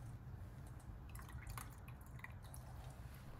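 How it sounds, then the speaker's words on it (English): Excess watery liquid from a bowl of seasoned ground-meat dumpling filling pours and drips away in soft, close trickles, with a low steady background hum and no talking. "It looks a little too watery, so I'm gonna pour some of it out."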